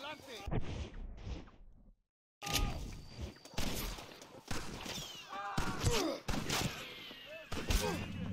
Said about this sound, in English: Why am I being shot at?